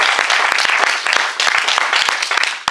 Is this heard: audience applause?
yes